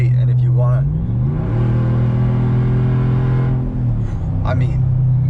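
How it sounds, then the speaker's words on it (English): A Hemi 6.4 V8 fitted with an MBRP 4-inch cat-back exhaust accelerating hard, its deep rumble climbing steadily in pitch over several seconds before easing off, loud and close throughout. "There's really no issue with the actual feedback in the exhaust when I accelerate"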